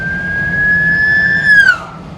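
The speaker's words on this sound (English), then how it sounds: "Ambulance." An ambulance siren passes close to a car on a London road, one steady high tone that bends downward as the vehicle goes by, loud over engine rumble.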